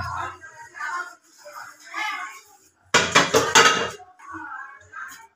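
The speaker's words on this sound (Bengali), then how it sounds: "ও থালা প্লেট দিয়ে পরিষ্কার করে নিচ্ছে" Plates and dishes being washed, a burst of clattering and scraping crockery in the middle, with women chatting before and after.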